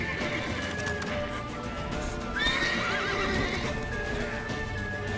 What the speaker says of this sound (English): Lead your horse!